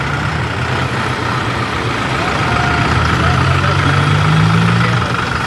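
A farmer's tractor engine runs steadily at a rally, with a continuous loud, low diesel rumble and no pauses from start to finish.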